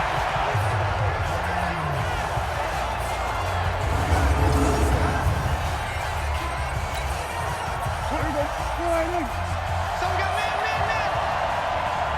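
Stadium crowd noise from the Madden NFL 20 football video game, a steady dense roar of many voices filling the background with a slight swell in the middle, heard alone without commentary.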